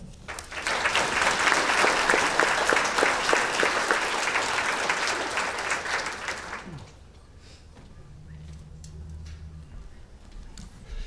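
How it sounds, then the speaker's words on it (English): Audience applause at a regional chamber of commerce legislative session wrap-up, a sustained, loud burst of clapping that lasts several seconds and then stops abruptly, leaving a quieter room with faint low hum and scattered small sounds. "please join me in a round of applause, again thanking them for representing us"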